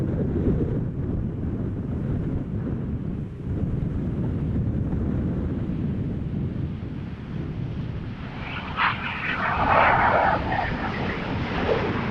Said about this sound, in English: KLM 737-900 arriving from Vienna, KLM flight 1838, flight time 1 hour 30 minutes